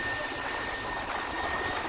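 A helicopter airlifting an injured soldier to a hospital in Ranchi, a steady broadband rotor and engine roar that holds loud and unbroken throughout, with no voices.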